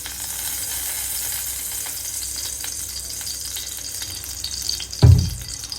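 Oil heating in a cooking pot set for chicken, giving a steady, moderate hiss that runs unbroken until a sharp, loud knock near the end.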